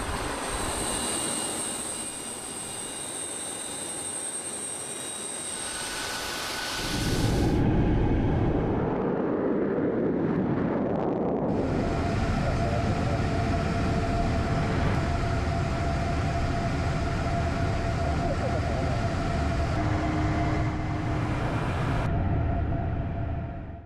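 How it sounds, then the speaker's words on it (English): A Russian Tu-160M nuclear-capable bomber in flight, heard from the cockpit as a loud, steady roar of jet engines with a high whine, shifting partway through into a broader, sustained drone. "He's in a Russian Tu-160M bomber."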